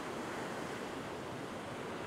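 Beach surf washing off a sandbar into a trough on the outer edge, a steady, loud wash of breaking water with wind noise across the microphone and no pauses.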